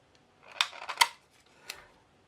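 Sticky tape handled on playing cards for a DIY magic trick: a few close crackly rips and snaps, two bursts close together then a fainter one, in a quiet room.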